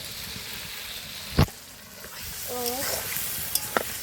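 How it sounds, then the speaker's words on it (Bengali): Boiled potatoes and peas tipped into a frying pan for vegetarian ghugni, a sharp clatter followed by soft steady sizzling, with a brief voice and small utensil taps. "এবার আলু আর মটর সেদ্ধ করে রাখা দিয়ে দেবো।"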